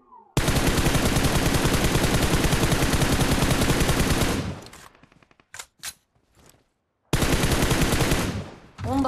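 Dense, continuous shotgun fire from a DBS in PUBG Mobile, a loud rapid rattle of blasts for about four seconds, then a few scattered shots and a brief silence before another sustained burst resumes.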